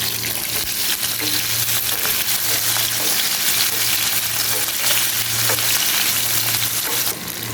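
Cubes of boiled potato fry in a pan over medium heat with a loud, continuous close sizzle, broken by occasional stirring scrapes and a faint steady low hum, with no voices.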